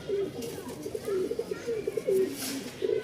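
Giribaz pigeons, three birds with two females and a male, coo in low, throaty repeated phrases close by, rolling on steadily from start to finish.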